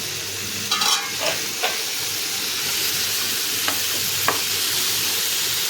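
Tomatoes fry in oil in a covered pan, a steady soft sizzle broken by a few clinks and stirring scrapes of a spoon, with no talking.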